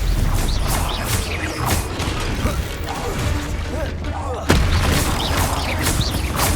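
Fire spell blasts in Hogwarts Legacy combat, dense booming bursts mixed with mechanical clatter and creaks throughout, with a sharp loud hit near the end.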